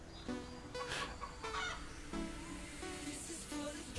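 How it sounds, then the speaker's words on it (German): Chicken clucking in the online horse-riding game Star Stable Online, several short bursts of fowl calls with honking, goose-like tones, fairly close and clear, with no talking over it. "Hört sich an wie ein Huhn?"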